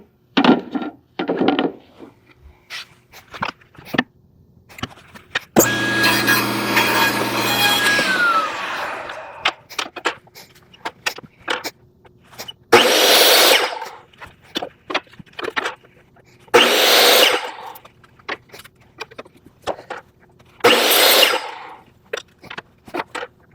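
A miter saw trims wood pieces for a small bookshelf in a workshop, with one long cut followed by several shorter bursts, separated by clicks, knocks and handling noises.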